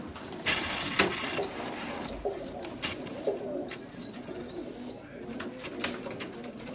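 Pigeons coo softly in a loft of prized show birds, low repeated calls near the microphone with a few sharper flutters and knocks, over quiet background.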